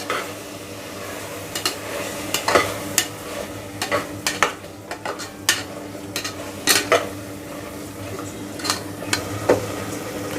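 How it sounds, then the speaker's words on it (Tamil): A spoon scrapes and knocks against a pan while tomatoes, mint and coriander leaves are stirred together over heat, sharp irregular clatters repeating over a constant low sizzle, close and fairly loud with no speech. "ஒரு கைப்பிடி அளவுக்கு கொத்தமல்லி இலை, இதை சேர்த்துட்டு மிக்ஸ் பண்ணி விடுங்க."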